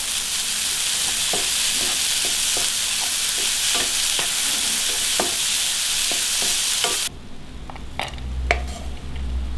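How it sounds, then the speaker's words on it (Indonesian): A spoon stirs savoury filling in a hot frying pan, steady sizzling with a string of soft scraping strokes, until the sizzle drops away and a few quieter clinks follow. "Kita aduk."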